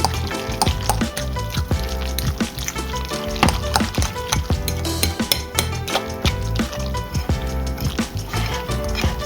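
Cream cheese and other cheese being mixed in a bowl for stuffed spinach chicken rolls, with busy, close scraping and clacking of a utensil against the bowl in a quick, irregular rhythm, no talking.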